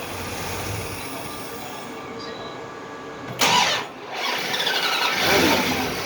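A 5.7 Hemi engine with an aftermarket intake manifold cranks and catches quickly, giving a sudden loud burst that settles into a steady running roar, following a quieter stretch of fan noise.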